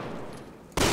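A single loud gunshot from the video game Resident Evil 6 bursts out near the end, following a stretch of quieter, low game ambience.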